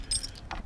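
Metal keys, including old barrel keys, jangle in a brief close clatter of two quick jingles outdoors in the sunshine as they are sorted by hand, with no talk.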